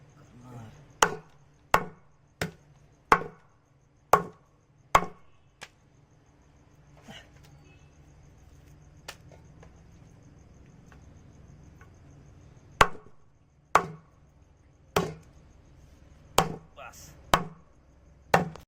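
Country rooster meat being chopped into pieces, sharp heavy blade strikes landing in quick bursts of about seven, a pause, then another run of chops, close and loud with no talk.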